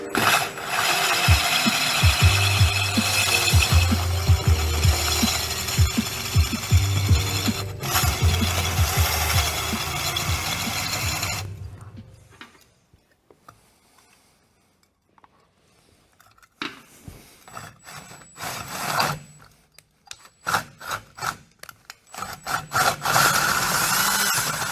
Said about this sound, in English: Let's take this enamel cup up to the shop and we'll get that modified and that handle trimmed off.